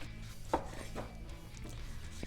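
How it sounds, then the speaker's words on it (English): A knife slicing through tomatoes on a cutting board, a couple of soft, quiet cuts with a clear tap near the start, close and without talk. "I'm gonna cut some tomatoes in the middle, just for extra taste."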